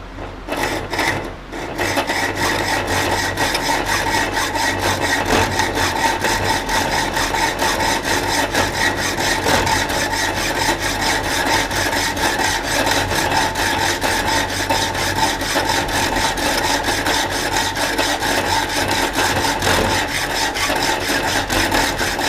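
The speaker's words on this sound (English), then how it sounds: "So I'll just take our hacksaw." A hacksaw cuts through material for a forklift battery box build, its steady back-and-forth rasping strokes running continuously and close after a brief pause at the start, with no talk.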